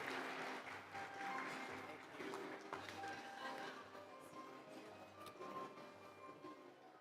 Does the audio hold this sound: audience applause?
yes